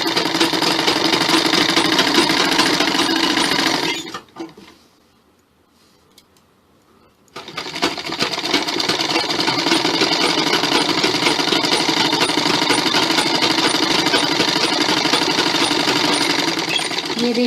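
An electric sewing machine stitching a belt salwar runs in a fast, even mechanical chatter for about four seconds. It stops for a few quiet seconds, then starts again and runs steadily until the end.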